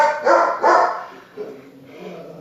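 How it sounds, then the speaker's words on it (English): A visiting dog gives two loud, close barks in quick succession, followed by softer yips and whimpering sounds that fade. "We have my mom's dog, Bella."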